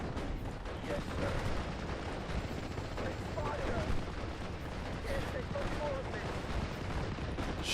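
Dense gunfire and artillery-like booms rumble continuously through a World War II battle in the strategy game Steel Division Normandy 44, a constant loud wash of shots and blasts with no clear single report.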